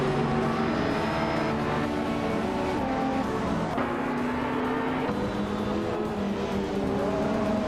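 A 1988 De Tomaso Pantera GT5S and other cars race at Tor Poznan Reverse in a racing video game, engines droning loudly and continuously with shifting revs and occasional tire squeal, no voices.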